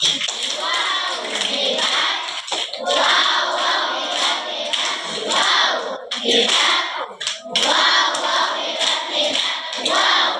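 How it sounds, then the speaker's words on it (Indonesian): A group of children and teenagers at a Catholic catechesis session claps together in a rhythmic patterned clap, repeated in bursts with brief pauses, loud and close, with some voices mixed in. "Tepuk hebat untuk kita semua."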